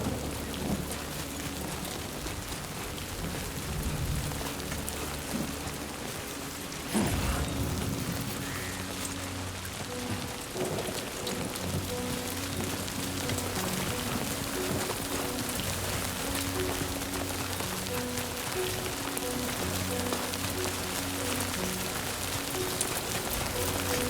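Steady rain in the video game Death Stranding 2 hisses continuously across the whole stretch, with a low thunder-like rumble swelling briefly partway through and a game background droning underneath.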